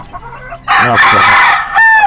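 A rooster crows loudly and close by, one long harmonic cock-a-doodle-doo rising after some faint clucking and a brief voice, ending with a bright sustained final note.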